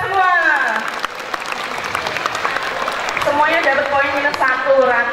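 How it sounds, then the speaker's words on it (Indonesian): Students clap at a school waste-sorting and Adiwiyata awareness session, a short burst of applause that comes through with loud talking and cheerful voices layered over it throughout. "Tepuk tangan untuk kita semua"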